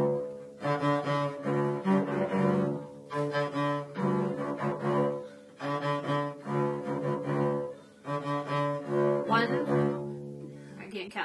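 Bass line from a rock song played in triple time, a repeating riff of sustained, resonant low notes in several phrases, fairly quiet and steady, heard alone without speech.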